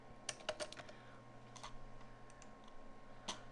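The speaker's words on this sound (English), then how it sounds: "So type something descriptive as a subject." Faint typing on a computer keyboard in an online tutoring session, a few quick bursts of light key clicks separated by pauses, quiet and without talk.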